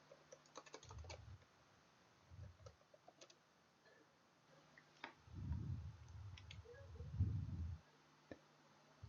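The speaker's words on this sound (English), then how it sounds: "You type in your password." A password typed on a computer keyboard in short bursts of quiet key clicks, with a couple of denser clusters of keystrokes, close and alone in a hushed room.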